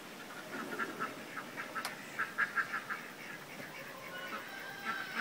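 Ducks quacking outdoors on a gloomy pre-storm day, a faint scattered series of short nasal calls at a moderate distance over a quiet rural background.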